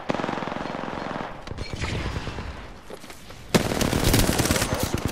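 Rapid automatic gunfire in Apex Legends, Season 8, dense bursts crackling continuously at close range, pausing briefly before a louder volley erupts.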